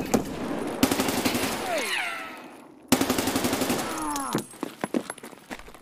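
Rapid bursts of automatic gunfire in a video game, two long volleys separated by a short gap and then scattered single shots, with faint sweeping tones overhead.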